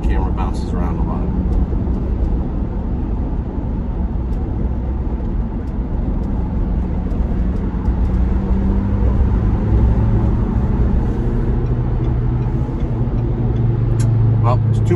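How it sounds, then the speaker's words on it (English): 2021 Ford Bronco 2-door Black Diamond accelerating onto a highway, a steady loud engine drone rising in pitch under a constant rush of wind noise, with someone talking over it. "try to give it some throttle getting on the highway up here. And I want you guys to hear it and hear the wind noise as it picks up"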